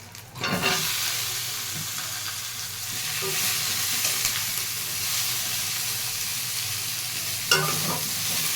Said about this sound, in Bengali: ভেজে নেব এবার এঁচোড়টা।